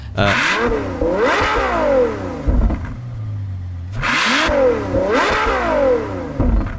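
A Ferrari 812 Superfast in the Gran Turismo racing game revs loudly twice, each burst climbing and falling in pitch with a brief lull between, with no talk over it.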